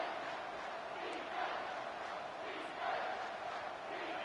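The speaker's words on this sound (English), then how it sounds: "The crowd elevating its energy, willing this defense to get a stop on this big 3rd down." A college football stadium crowd at a Tennessee–Cal game roars in a sustained distant wash, swelling slightly as the defense faces third down.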